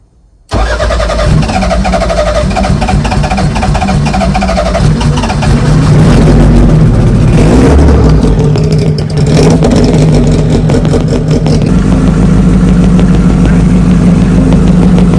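A race car engine fires up and roars, revving hard and holding a throaty, high-powered drone close by for over ten seconds.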